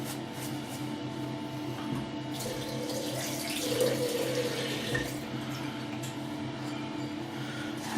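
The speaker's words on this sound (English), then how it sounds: "just put some more water into the bowl" Water runs steadily from a tap into a shaving bowl for a wet shave with a Merkur Progress 500 razor and sandalwood soap, a continuous close splashing trickle that swells slightly midway.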